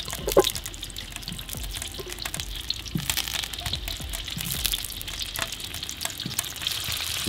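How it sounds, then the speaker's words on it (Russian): Potatoes fry in oil in a kazan over an open fire, giving a steady, close sizzle with occasional soft clinks and crackles throughout. "Хорошенечко смазываем стенки казана и отправляем жарить картофель"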